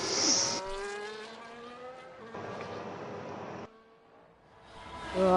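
A Red Bull Formula 1 race car in the F1 2 racing game approaches with a rising engine whine and shifts gears as it nears. The sound is moderately loud and then drops off briefly.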